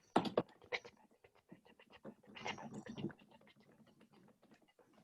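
Children make soft pattering and tapping sounds with their hands to imitate rain, a busy scattered patter that rises and then fades.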